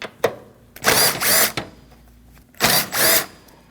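A power tool drives out the two 10mm bolts holding the windshield washer reservoir on a 2003-2008 Subaru Forester 2.5L, making two short close whirring bursts separated by a pause, with small clicks between them.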